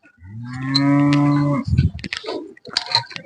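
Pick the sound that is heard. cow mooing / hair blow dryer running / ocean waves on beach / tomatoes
cow mooing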